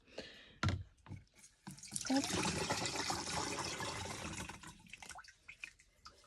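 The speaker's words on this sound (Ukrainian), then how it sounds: "І додаємо водички." Water runs steadily into a garden sprayer holding a Plantafol and Megafol mix, a close, continuous pouring rush of several seconds that starts after a few knocks and trails off into drips.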